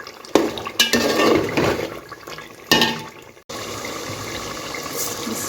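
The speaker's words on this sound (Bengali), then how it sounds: "চাল ঢেলে দেব।" Rice poured into a pot of nearly cooked biryani meat, a loud rushing pour with a couple of bursts, followed by a steady hissing sizzle, no talking.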